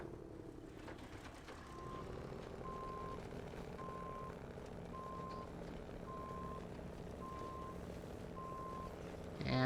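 A truck in SnowRunner idles and moves with a low engine rumble while a reversing alarm beeps in a steady repeating rhythm, fairly faint, ending with a louder mechanical burst.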